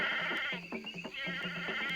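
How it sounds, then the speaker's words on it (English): Goat bleating in a radio drama, a few wavering cries breaking through a steady background hum, close and fairly loud with no voices over it. "Bring up the goat, men"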